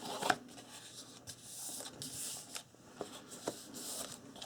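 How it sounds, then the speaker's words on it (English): Chipboard being folded and creased by hand to make an album, giving soft close rustles, scrapes and a few small taps in a quiet room. "And I'm folding up the chipboard to get my fold."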